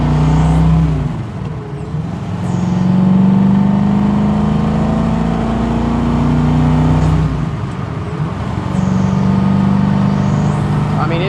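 A 1966 Ford Mustang Hertz GT350 restomod accelerating through its gears from inside the cabin, the engine climbing in loud revving pulls with a drop at each shift, while a voice talks over it.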